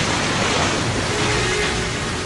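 Storm-tide ocean waves produce a constant, loud roar of surf and rushing water with a windy edge, steady and unbroken throughout.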